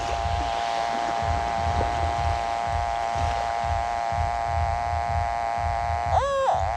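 A Minelab Excalibur metal detector gives its low-battery warning, a continuous thin electronic tone over soft, regular low pulsing. A short warbling beep comes near the end.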